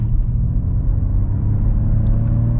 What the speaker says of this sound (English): I'm gonna wait for this van to go in and punch it.